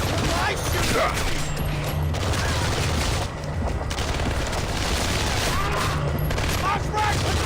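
Sustained gunfire in the video game Splinter Cell: Conviction, a dense continuous barrage of rapid shots with booming low rumble, loud and close throughout, with voices mixed in.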